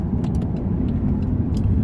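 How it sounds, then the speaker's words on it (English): BMW 650i Gran Coupe twin-turbo engine droning steadily from inside the car on the road, a continuous loud low hum with faint shift-like transients, no talking. "Shifts sound really good"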